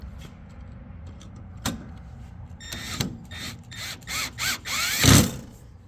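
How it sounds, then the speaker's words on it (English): A screw is driven to fasten a burner box back onto its bracket on an EZ Freeze propane refrigerator, heard as a series of close, short ratcheting and scraping bursts that grow busier toward the end. "we're just gonna screw our burner box back onto the burner box bracket"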